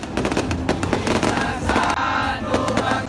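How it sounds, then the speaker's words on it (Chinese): Fireworks at a crowded Malaysia Day countdown celebration at a food court, a rapid dense crackling of bursts and pops over the murmur of a crowd, loud and continuous throughout. "而现场还有烟花助兴的"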